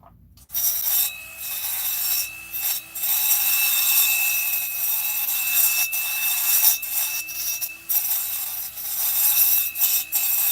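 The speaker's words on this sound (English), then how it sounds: "Which means I'm breaking out the grinder." A grinder works on a Stihl 362 chainsaw, a steady high whine broken by short gaps and pitch dips as the tool bites and eases off, close and loud, with no talking.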